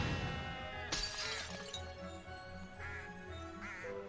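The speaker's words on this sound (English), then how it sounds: "if we hit this glass jar" A glass jar smashes in the Harry Potter and the Chamber of Secrets video game, a sharp shattering crash with tinkling shards, followed by a couple of softer chiming game effects.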